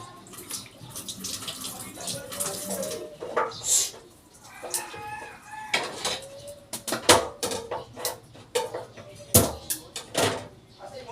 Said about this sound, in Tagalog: Hinugasan ko lang yung bawang, tapos pipindutin lang.